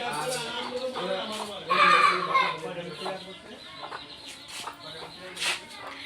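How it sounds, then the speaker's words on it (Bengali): A chicken clucks repeatedly at close range, with one louder burst of cackling partway through, in a busy indoor setting where people talk in the background. "এটা হলো মুরগি"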